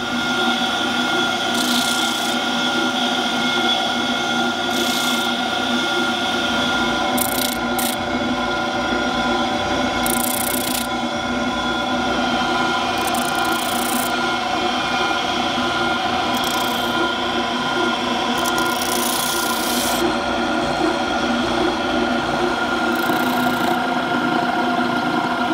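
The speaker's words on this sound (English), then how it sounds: "I never thought I'd use an oscillating drum sander for planting seeds either" An oscillating drum sander runs steadily throughout, sanding the hard coats off bonsai seeds, with a constant motor drone and several brief, brighter rasping bursts as seeds are pressed against the drum.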